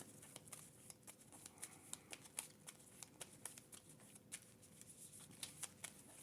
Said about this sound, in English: Shuffle up.